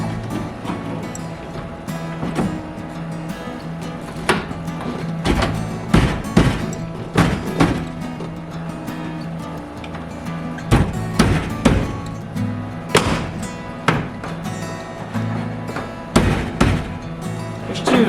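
Hammer blows strike the interior panel latches of a Ford Galaxie fastback in repeated, irregular bursts of sharp metallic knocks and thuds, some clustered quickly and others spaced apart, loud and close.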